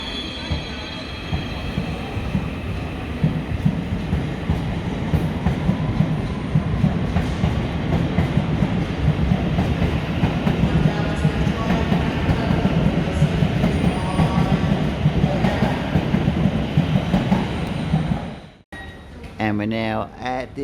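A train rumbles and clatters along the rails as it pulls into Farringdon station in London, steady and loud for a long stretch, ending with a brief squeal and quieter noise.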